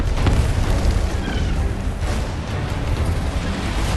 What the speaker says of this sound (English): there's the gunfire. Ah, do you hear that? The Gastrel's full broadside.